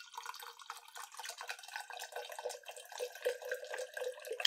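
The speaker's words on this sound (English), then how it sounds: "That sounds like more than half of a red solo cup's worth of pouring." Liquid pours into a red plastic solo cup in a steady, bubbling trickle that fills it past halfway, close and fairly quiet, with no voices.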